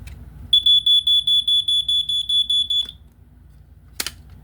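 A 1994 First Alert SA90LT smoke alarm sounding during a test, a loud piercing shrill tone that pulses rapidly about a dozen times over two seconds before cutting off, followed by a single click.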